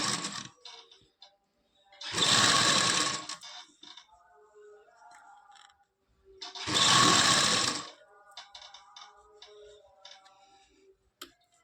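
A sewing machine stitches lace onto a dupatta in two loud, rapid bursts of whirring stitches, separated by quiet stretches of light ticks and handling noises.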